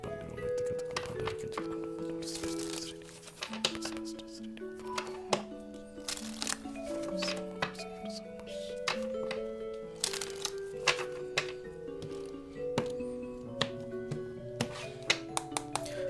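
Oracle cards are shuffled for a tarot reading, giving soft, quick riffling taps and clicks close up, with gentle music playing underneath and no talk.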